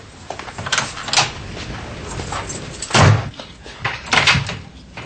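A door closes indoors with a solid thud partway through, surrounded by lighter knocks, bumps and handling noises close by.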